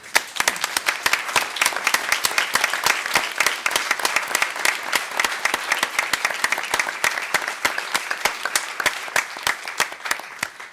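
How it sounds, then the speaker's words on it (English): An audience at a NASA briefing on the Curiosity Mars rover breaks into applause, with dense, even clapping from many hands sustained for about ten seconds. "I would personally like to take this moment to give them a little round of applause"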